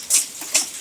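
Dime-sized hail during an April storm in West Tennessee, heard as two sharp close ticks of stones striking a hard surface about half a second apart, with a soft background hiss between them.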